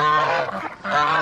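Young guinea fowl call out loud and close in two harsh, honking bursts with a short dip between them, heard alone on a farm.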